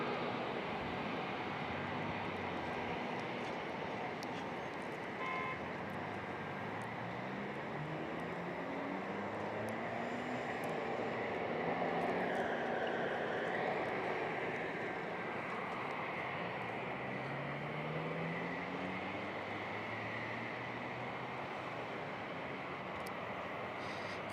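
An Air Canada airliner landing on runway 27 at San Diego International Airport produces a continuous jet roar that swells gently toward the middle and then holds steady, heard at a moderate distance.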